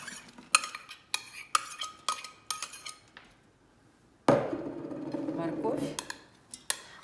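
Chopped onion tumbles into a pot with a little oil with a sudden rustling, sizzling rush after a run of sharp clinking knocks.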